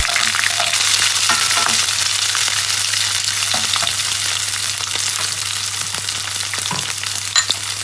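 Onions frying in hot oil with fennel seeds for a Jaffna-style elephant-foot yam dish: a loud, continuous close-up crackling sizzle with a few light ladle scrapes throughout.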